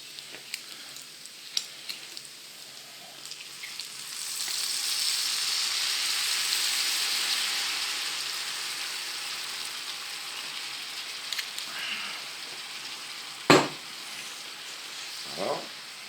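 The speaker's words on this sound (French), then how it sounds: "Maintenant, nous allons déglacer avec du vinaigre balsamique." Balsamic vinegar hits a hot pan of wood pigeon and sets off a steady, hissing sizzle that swells and then holds, with a few clicks and knocks of utensils near the end.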